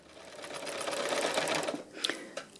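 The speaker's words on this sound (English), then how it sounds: "Proper free machine embroidery, just using the lines and the stitching just to hold all of these different colours in place" A sewing machine doing free machine embroidery on fabric, its fast steady stitching whirr running close and continuous before slowing into a few separate clicks and knocks.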